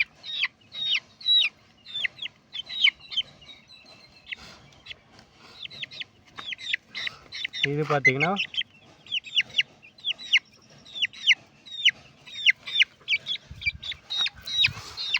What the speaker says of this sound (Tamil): இது பார்த்திங்கன்னா 1 மாதம் கோழி குஞ்சு.